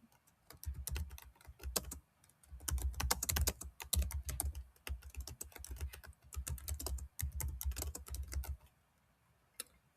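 Steady typing on a computer keyboard, rapid clustered keystrokes in bursts with brief pauses, close and clear with no talk.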